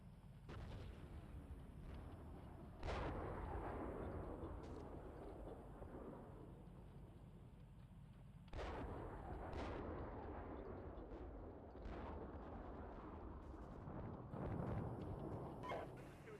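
Incoming fire strikes an armored tank in the Steel Beasts Pro PE combat simulator, heavy booming impacts landing every few seconds over a constant low rumble, distant-sounding and muffled.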